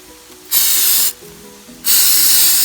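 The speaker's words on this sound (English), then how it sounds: "I'm going to spritz it a little bit now." Olive oil spray spritzed onto cod fillets in an air fryer: two close, loud hissing bursts, the first about half a second long and the second longer, with quiet gaps around them.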